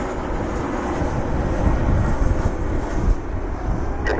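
A jet airliner passes at Cleveland airport outdoors, a loud, continuous broadband engine roar with wind buffeting the microphone and no speech.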